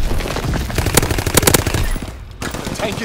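Rapid automatic gunfire in a Call of Duty WWII match, fired at infantry beside a retreating tank: dense bursts of shots with loud cracks around the one-second and one-and-a-half-second marks, then a brief lull and more firing.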